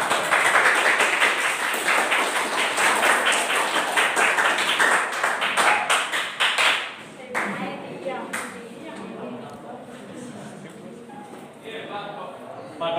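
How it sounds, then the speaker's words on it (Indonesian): Audience clapping in a classroom or workshop setting, dense applause for several seconds that thins into scattered claps while people begin talking over it. "Silakan kasih tepuk tangan"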